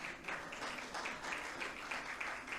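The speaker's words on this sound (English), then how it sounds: "You may applaud." Quiet, distant audience applause at a panel discussion in Kingston, Jamaica, a steady patter of many hands that stays even for a couple of seconds with no voices over it.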